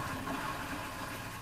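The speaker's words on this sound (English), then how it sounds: "so I'm going to depress the lever here, basically flushing it, and we'll wait until the pink comes out" A toilet in an RV flushing pink antifreeze through its lines, giving a steady, close rush of liquid and gushing water that runs evenly for the whole stretch.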